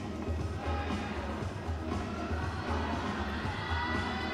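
A spectator crowd cheers and shouts encouragement at a fairly distant, steady level, a continuous wash of voices with higher calls that could be children mixed in.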